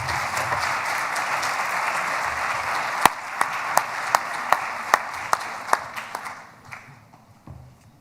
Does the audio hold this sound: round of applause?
yes